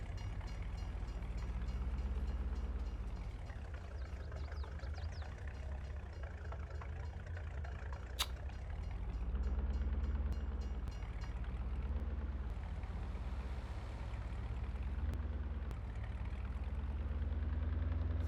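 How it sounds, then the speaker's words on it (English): A train in the video game Farming Simulator 22 rumbles past with a deep, steady engine drone that swells and eases over about eighteen seconds, with no talking. "The train comes hammering through"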